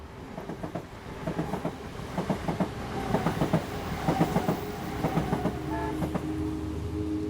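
A train passes along a railway a few hundred meters from a residential street, its wheels clattering in a rhythmic clickety-clack over the rails under a continuous rumble, loud and fairly near.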